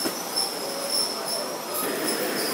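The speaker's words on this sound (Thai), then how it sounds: "ขณะนี้รถไฟขบวนที่ 208ได้เดินทางมาส่งผู้โดยสาร ที่สถานีรถไฟกรุงเทพหรือหัวลำโพงอย่า งปลอดภัยแล้วนะคะ" Train 208 pulling into Hua Lamphong, Bangkok's main railway station: a steady metallic rumble with faint high wheel squeal, heard alone with no talk.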